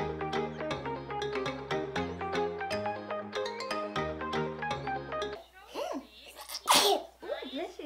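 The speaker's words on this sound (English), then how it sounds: "Okay, sneeze." A child sneezes while having curly hair washed and styled at home: soft breathy inhales, then one sharp, close sneeze followed by short breaths, after several seconds of tinkly melodic music playing nearby.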